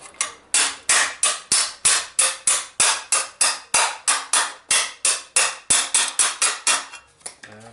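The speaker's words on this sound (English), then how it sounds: "just with the vise and a hammer" Loud, close metallic hammer blows strike a metal sill repair panel for a Nissan 350z held in a vise, in a steady rhythm, about three per second, each ringing briefly before the next, then stopping with a few softer knocks.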